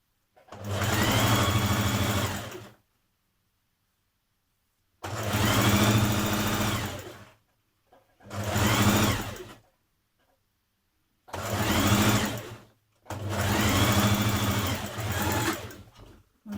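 Sewing machine stitching a seam on a top, running in five loud, close bursts of varying length separated by short silences, with no talk.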